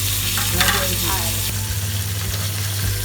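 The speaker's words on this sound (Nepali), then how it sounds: "त्यसपछि गोलभेडा हालेर सबैलाई एकैचोटि फ्राई गर्छौँ।" Onion, capsicum and tomato fry together in a pan, giving a steady, close sizzle that runs through the whole clip, with a few faint stirring scrapes on top and no talking.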